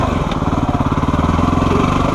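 A dirt bike engine idles with a steady chugging pulse on a rough nature trail, then rises in a brief rev, loud and close.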